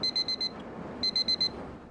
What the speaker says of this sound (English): the alarm rang with a clatter.